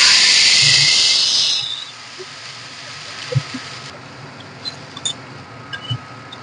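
Water hits a hot pan with a loud, dense hiss that fades out after about two seconds, followed by quieter faint clinks and bubbling.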